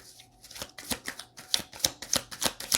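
Tarot cards riffle and slap as they are shuffled and drawn at close range. Crisp flicks and taps repeat at a quick, uneven rhythm, with a few softer rustles at the start and no voices.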